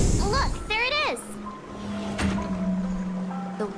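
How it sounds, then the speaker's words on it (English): Steady rushing and splashing water from a large fountain in Honkai Star Rail, a continuous wash of spray running under a voice that speaks through most of the moment. "I think I hear the sound of water. You once mentioned there's a magnificent fountain up ahead."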